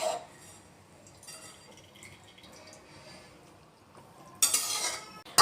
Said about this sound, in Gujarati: હવે બધું સારી રીતના મિક્સ કરી લઈશું